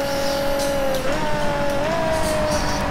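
Race car in the video game DTM Race Driver 3 driving at speed on a British GT circuit, a loud, sustained engine whine that shifts pitch with gear changes, with faint tire noise beneath.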